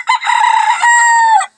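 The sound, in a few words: chickens, rooster crowing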